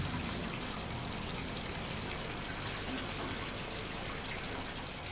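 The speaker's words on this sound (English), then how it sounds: "Dr. Peter Schultz fills a small tank with water to see how the ocean would react." Water pours steadily into a small tank, a continuous, even rushing and splashing hiss with no breaks, fairly faint and heard alone.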